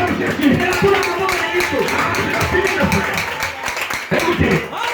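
A church congregation claps rhythmically while acclaiming Jesus, steady clapping under mixed voices and background chatter, fairly close and continuous.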